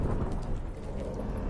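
A thunderstorm at sea rages in The Witcher 3: Hearts of Stone, a dense, roaring wash of rain and wind with low rumbling filling the whole short stretch, steady and loud.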